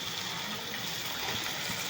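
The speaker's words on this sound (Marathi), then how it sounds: "आता ह्यात आपण घालून घेऊ पाणी" Water is poured into a brinjal (eggplant) vegetable curry as it cooks, giving a steady, fairly faint rushing pour that runs without a break and has no talking over it.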